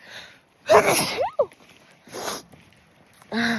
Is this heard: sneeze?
yes